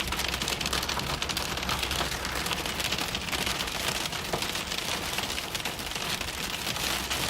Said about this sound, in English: Looks like some cheese curd-sized hail right now is falling in front of Connor Croft's camera, right onto his windshield.